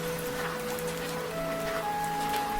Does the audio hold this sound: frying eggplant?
no